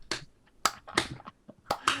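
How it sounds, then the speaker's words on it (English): A few slow, widely spaced hand claps, sharp and fairly close, with gaps between each clap and no talking over them. "Slow clap."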